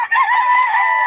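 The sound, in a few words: rooster (stag) crowing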